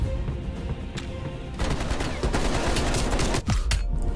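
Heavy gunfire and explosions in the video game Call of Duty: Cold War, set in winter mountains in Russia, with dense rapid shots and blasts building to a loud, continuous barrage after a quieter start.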